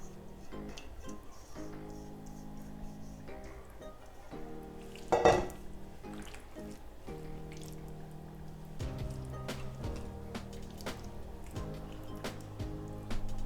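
Chicken wings are dipped and turned in sticky sauce in a pan, with soft wet squelching and stirring, faint clinks against the pan, and one louder clatter partway through.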